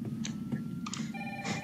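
A telephone rings in Resident Evil 3 Remake, with bright electronic bursts repeating over a low steady hum. There is no talking.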